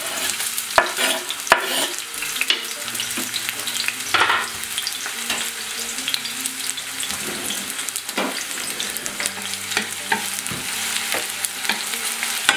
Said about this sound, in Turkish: Soğanlarımızı tavaya ilave edelim.